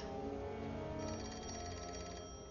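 An old-fashioned telephone bell rings in a quiet indoor 1920s setting, a steady trilling ring that is moderately faint and heard alone.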